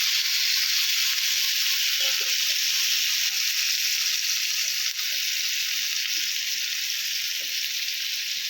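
Brinjal slices frying on a flat iron tawa after being turned to the other side, giving a steady, close, even sizzle that holds with little change from start to finish and no voices.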